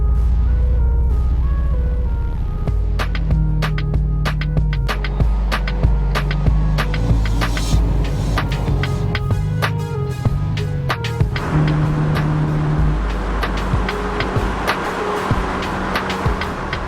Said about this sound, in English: I'm going to take you guys for a run in my daily driver, R34 GT-R B-Spec.